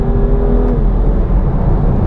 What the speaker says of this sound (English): That engine is so angry.